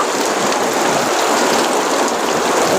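Heavy rain pours steadily as a dense, continuous hiss, close and loud throughout, with no voices.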